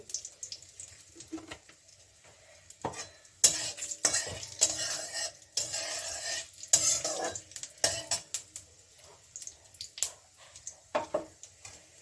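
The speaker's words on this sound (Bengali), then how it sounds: "তেজপাতা ফোড়ন নিচ্ছি জিরা ফোড়ন দিচ্ছি তেল লাগবে আর একটু তেল দিয়ে দিচ্ছি" Bay leaf and cumin seeds tempering in hot oil for a Bengali radish ghonto, brief crackling bursts of sizzle between quieter gaps, mixed with clinks and scrapes of a utensil on the pan, close and without speech.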